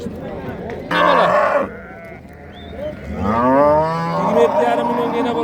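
A cow moos loudly in long, drawn-out calls at a busy livestock market, where it is being sold with its heifer calf; people talk nearby and a shorter call comes first.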